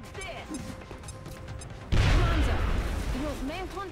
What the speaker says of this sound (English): Military-grade explosives plus pinpoint grenade throw control can solve a lot of problems.